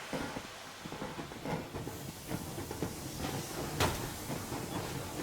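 A steam train called the Yermak in Metro Exodus rolls along at steady speed, with a constant broadband hiss of steam and faint rhythmic rail clatter and a brief sharper burst midway, and no one talks.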